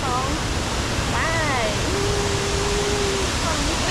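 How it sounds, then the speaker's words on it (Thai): Steady, loud rush of the heart-shaped Petro Lo Su waterfall fills the whole stretch, with a few faint whistle-like tones and calls riding over the constant roar. "ตอนนี้นะคะก็ถึงแล้วนะคะน้ำตกเปโตรอซู ไปดูพร้อมกัน"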